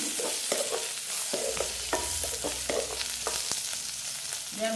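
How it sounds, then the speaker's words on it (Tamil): Onions and chillies sauté in a pan, with a steady sizzle and repeated scraping strokes of a spoon against the metal running through the whole stretch, close and fairly loud, with no talk. "நல்லா வதங்கட்டும் வெங்காயம் மிளகாய் எல்லாம் நல்லா வதங்கணும்"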